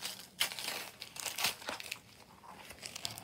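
Gift wrapping paper is crinkled and torn off a cassette tape, giving a few quiet, close rustling and tearing bursts with no talk.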